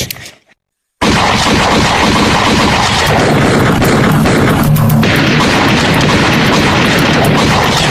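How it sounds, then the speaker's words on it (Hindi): Loud gunfire in a stage play about Chandrashekhar Azad, where a brief sound gives way to a second of silence before a sudden blast and a sustained, overloaded barrage of booming shots. "सुखदेवराज, दुश्मन की गोलियों का सामना हम करेंगे।"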